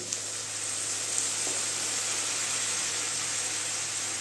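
Boiled chana dal goes into a hot pan for a Bengali papaya dal, giving a steady, even sizzle that stays loud and continuous throughout, with one faint clink near the middle.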